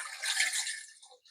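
Bottled water is poured into a pot holding carrots, a steady bright splashing stream lasting about a second, then tapering off into a couple of faint drips.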